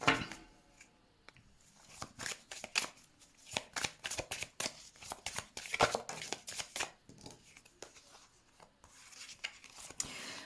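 Tarot cards are shuffled for a card reading: a run of quick, crisp riffling and slapping bursts in an irregular rhythm, close and fairly quiet, with no talk.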